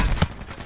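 Burst of gunfire in the video game Black Ops 4 Blackout, a short sharp shot cluster at the start that tails off quickly.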